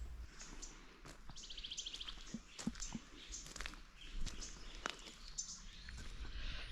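Birds chirp and tweet intermittently outdoors at Pinnacles National Park, California, a few calls fairly close and others farther off, with faint rustling in between.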